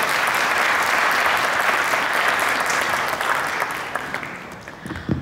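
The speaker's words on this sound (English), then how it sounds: "can we please have a very big hand of applause for both of" Loud, close audience applause at the closing session of a Geosmart India conference, a thick continuous roar of clapping that holds strong and then gradually thins out toward the end.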